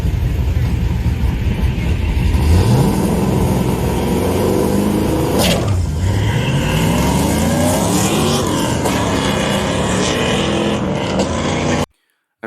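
Nitrous-fed 1000+ rear-wheel-horsepower Camaro drag car on slicks making a pass down the strip, a loud continuous engine roar with rising and falling revs and a Doppler sweep as it passes, ending in a sudden cut to silence.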